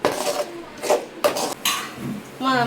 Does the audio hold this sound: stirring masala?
yes